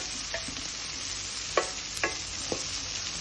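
Vegetables and French beans stir-fried in a pan for veg fried rice, a steady hiss with a few sharp scrapes of the spatula, close and alone without voices.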